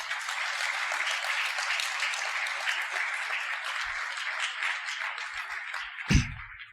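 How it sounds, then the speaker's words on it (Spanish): A church congregation applauds steadily for several seconds at an anniversary service, a broad dense wash of clapping that ends in a brief louder thump near the close. "Dale un aplauso al Señor."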